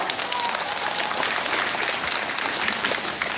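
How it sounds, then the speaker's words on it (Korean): An audience of older adults at a community job-training session in Incheon claps steadily, a dense, even patter of many hands filling the room for a few seconds, with no one speaking over it. "청춘이라고 생각되시는 분만 박수 한번 쳐주세요"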